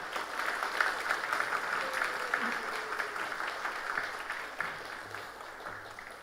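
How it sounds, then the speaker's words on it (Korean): A church congregation applauding a guest pastor as he comes forward, a steady wash of clapping from a crowd at moderate distance that continues throughout and fades slightly toward the end. "이렇게 큰 박수를 받아본 적이 너무 오랜만인 것 같습니다"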